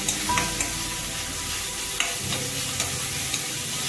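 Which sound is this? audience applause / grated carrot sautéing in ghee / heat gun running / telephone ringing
grated carrot sautéing in ghee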